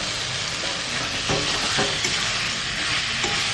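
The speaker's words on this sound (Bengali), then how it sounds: "এইবার ভেজে রাখা আলু আর পটল একসাথে দিয়ে আবারও একটু কষিয়ে নেব," Fried potatoes and pointed gourd are stir-fried in spice paste in a hot pan, giving a loud continuous sizzle with a few scraping stirs partway through.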